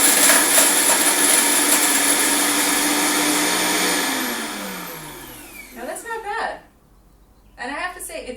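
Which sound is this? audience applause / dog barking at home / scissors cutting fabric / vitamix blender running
vitamix blender running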